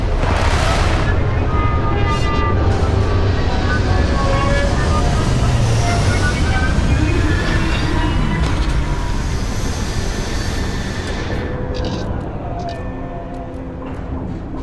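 Retro rockets firing as a spaceship sets down in the space game Starfield, a loud, sustained roaring rumble with rushing noise that eases slightly toward the end.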